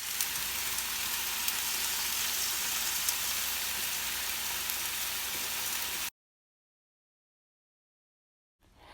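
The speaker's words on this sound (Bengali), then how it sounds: "একটা ফ্রাই প্যানে অল্প তেলে সবজিগুলো ভেজে নেব।" Vegetables fry in a little oil in a frying pan on a stovetop, giving a steady, even sizzle for about six seconds before cutting to silence, with a brief return of sizzling at the very end.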